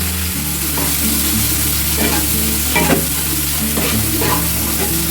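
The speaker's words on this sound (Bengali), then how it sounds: "চিংড়ি মাছটা ভাজা হয়ে গেছে, এবার আমি পরিমাণ মতো লবণ দিয়ে দিলাম পরিমাণ মতো হলুদ আর লঙ্কার গুঁড়ো।" Prawns frying in a pan with salt, turmeric and chili powder, a close, steady sizzle broken by repeated scraping stirs of a spatula.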